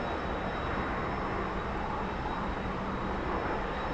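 Continuous broadband roar of a T-45 jet engine with the throttle pushed forward in the DCS flight simulator, loud and steady with a faint high whine throughout.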